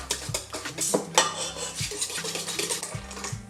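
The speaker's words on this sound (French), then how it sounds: "Je vais commencer à bien mélanger l'ensemble." Dough ingredients being mixed in a bowl, with a utensil repeatedly scraping and clinking against the bowl in a steady, busy rhythm, close and moderately loud, with no talk.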